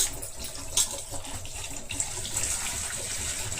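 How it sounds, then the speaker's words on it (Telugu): Tap water runs steadily over raw chicken being rinsed for a fry dish, a continuous close splashing wash with no talk. "చికెన్ కొంచెం రెండు మూడు సార్లు బాగా కడిగి"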